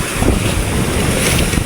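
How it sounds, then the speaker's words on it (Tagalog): A big ocean wave crashing near a small outrigger boat at sea, a brief loud roaring wash of surf mixed with heavy wind buffeting on the microphone. "Grabe naman, laki ng alon nun."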